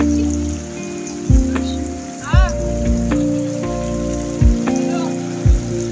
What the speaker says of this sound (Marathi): हे बघा माझ्या पाठीमागे तुम्ही बघू शकता किती पाऊस आहे.